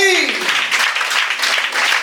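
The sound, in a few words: congregation clapping for the Lord during a sermon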